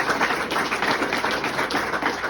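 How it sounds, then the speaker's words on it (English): Dense applause from a crowd at a military retirement ceremony, a steady patter of many hands clapping at once, even and sustained throughout. "Can we please give her a round of applause for that?"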